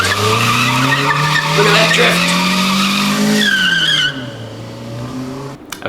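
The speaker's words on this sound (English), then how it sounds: "It's a drift! A drift!" A Kia car drifts with its tires squealing loudly and continuously, engine droning beneath the screech as it slides, then the sound fades and drops away; a person speaks briefly over it.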